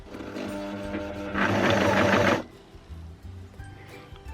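Overlocker sewing the hem of a stretch fabric pinafore, a loud, fast mechanical whirr bursting in for about a second close by, with quieter machine hum and handling before and after.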